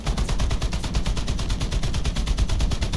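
Dense, rapid gunfire from tank cannons and machine guns in a War Thunder tournament match, a steady rattling barrage with no pauses across the whole stretch, loud and close.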